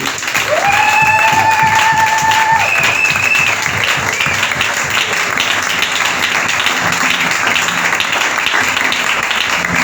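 A church congregation at a Sunday worship service bursts into loud, sustained applause and cheering, with scattered voices and whistles rising over the continuous clapping throughout.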